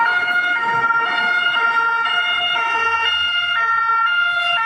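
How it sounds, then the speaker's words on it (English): A two-tone French ambulance siren alternates steadily between a high and a lower pitch, loud and continuous, with faint road noise beneath. "what a French siren actually sounds like"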